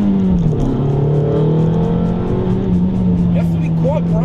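A Toyota Altezza RS200 drives nearby with a loud, steady engine drone, pitch dipping slightly then holding level, while someone talks over it.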